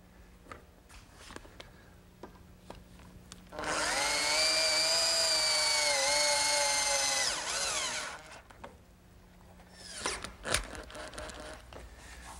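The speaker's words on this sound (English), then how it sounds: "I'll hold it in place with some screws in the holes that I drilled earlier." A power drill drives screws into a wooden bed rail of a pencil-post bed, a loud steady whine of about four seconds, followed by a shorter second burst after a pause, with faint workshop clatter around it.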